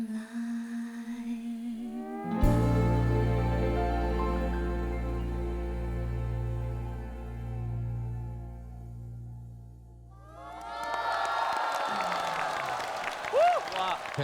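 A studio audience at a Chinese televised singing competition claps and cheers for a stage duet, breaking out loudly as a long sustained musical chord fades away near the end.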